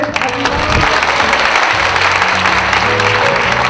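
Sustained applause from an audience at a city mayor's welcome ceremony in a district hall, dense steady clapping filling the room, with faint voices underneath.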